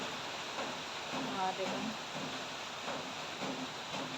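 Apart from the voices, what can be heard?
heavy rain drumming on corrugated iron roof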